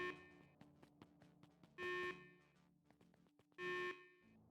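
Electronic alarm in the game Beacon Pines, two loud sustained buzzing blasts separated by a pause, with fainter tonal beeps and chimes in between.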